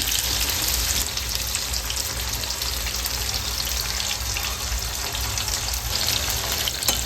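Whole onions frying in a pan of oil until golden brown for a Kathiyawadi onion curry, giving a continuous, even, bubbling sizzle close by with no voices.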